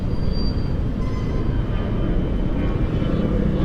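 A Yamaha Sniper motorcycle engine pulls in low gear, a loud, continuous, rumbling drone with road and wind noise that stays steady throughout, with no talking.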